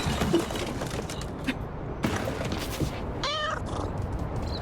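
A cartoon trash cat in a video game meows once near the end, a short rising-falling call over busy game sound effects and clatter.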